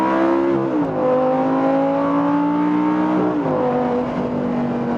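Audi R8 GT with a naturally aspirated V10 accelerating hard, close and loud, the engine note rising steadily through the revs with brief dips at gear changes before climbing again.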